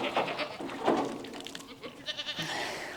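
Small goat bleating near a bathtub used as a farm water trough, a few short close cries at the start and around one second, with outdoor farmyard noise continuing after.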